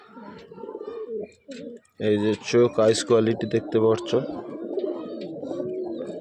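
A young female fulshira pigeon coos in a quick run of low, throaty notes close by, with someone talking before and after the calls.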